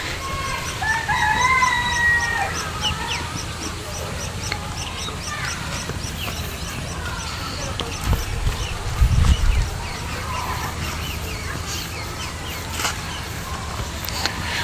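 Chickens cluck and a rooster crows amid a busy outdoor farmyard, with scattered bird calls and brief louder rustling partway through.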